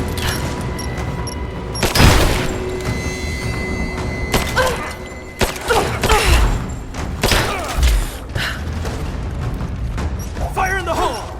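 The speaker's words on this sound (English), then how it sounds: "Grenade out!" Grenade explosions amid gunfire in the video game Rise of the Tomb Raider, several heavy thuds and booms scattered through a steady din of shooting, with voices shouting over the fight.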